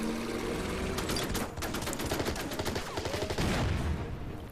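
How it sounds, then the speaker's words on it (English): Tank attack gunfire in the Order of Battle war game: a dense, continuous barrage of overlapping shots and explosions, with sharper bursts near the middle and a heavier rumble toward the end, sustained and loud throughout. "let's commit this tank then to finish him off"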